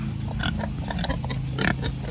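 Pigs on a farm grunting and snorting up close, a quick run of short rough oinks over about two seconds with no talking.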